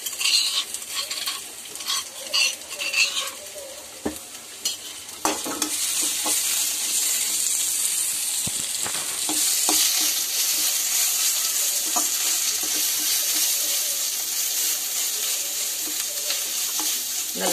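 Goat trotters sautéed with ginger garlic paste, a loud continuous sizzle as a metal spoon scrapes and clanks against the pan with repeated stirring strokes.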